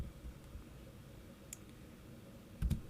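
Computer mouse clicks while working in Power BI software, a couple of soft, close clicks in quiet room tone, with a brief thump near the end.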